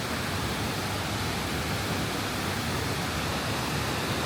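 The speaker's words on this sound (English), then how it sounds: "Good day to hear some moving water," Rushing stream water in a nature park flows as a steady, loud broadband roar, continuous and unbroken with no voices.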